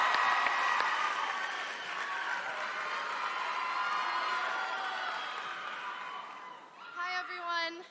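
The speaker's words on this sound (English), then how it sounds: "please help me in giving a warm applause to Chloe Marchman." An audience applauds with sustained clapping and some cheering for several seconds, then fades as a voice begins speaking.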